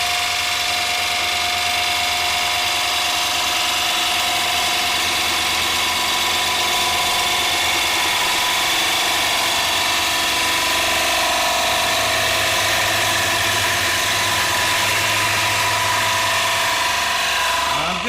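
A wood lathe spins steadily as a gouge cuts an ogee bowl, a constant close mechanical hum and whir running unbroken throughout, with no speech.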